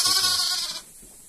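A sheep or lamb in a flock of tame sheep gives one short, close bleat that fades out quickly.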